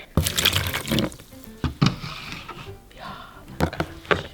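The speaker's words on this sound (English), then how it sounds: "And then we gotta put our water." Water splashes and trickles into a container of instant snow for slime in several uneven bursts, with clattering handling sounds nearby and brief pauses between pours.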